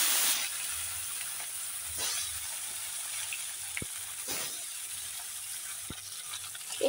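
Small river boroli fish frying in hot oil, a steady crackling sizzle throughout with occasional clinks and scraping of a utensil in the pan, close and alone.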